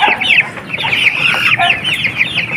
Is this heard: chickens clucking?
yes